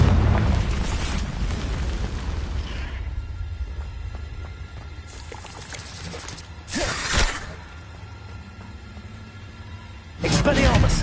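Confringo fire spell in Hogwarts Legacy sets off several loud booming explosions: a long rumbling blast at the start, then sharper bursts in the middle and near the end, all within the game's continuous background sound.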